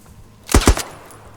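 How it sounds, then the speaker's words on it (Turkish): Machine gun fire in the World War I video game Beyond The Wire, a short close burst of about three sharp shots in quick succession, heard alone. "Makineliyle bir çıkalım bakalım ya."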